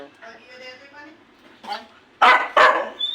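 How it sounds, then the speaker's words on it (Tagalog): A dog gives a couple of sharp, close barks after softer whimpering sounds, with people speaking nearby. "ang mabait naming aso"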